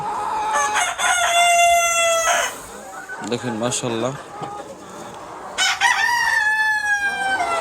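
Sonali roosters, a flock of about seventy kept apart from the hens on a poultry farm, crow loudly in two long bouts with clucking, while someone talks briefly in the pause between them.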